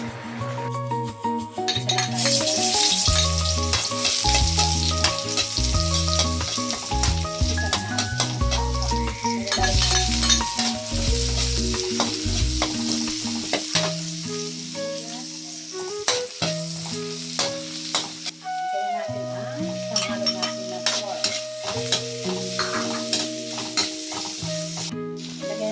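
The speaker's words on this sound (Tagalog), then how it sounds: "Yan, nagigisa na ako." Bean sprouts (togue) are sautéed in a pan for lumpia, giving a loud, dense sizzle and frying hiss that runs throughout, with frequent stirring scrapes and occasional metallic clinks close by.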